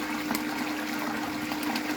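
Water washes down a gold-prospecting sluice, tumbling over a small ramp and bubbling in a steady, continuous flow with light splashy detail.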